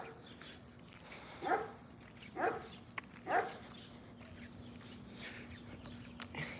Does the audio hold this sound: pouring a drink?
no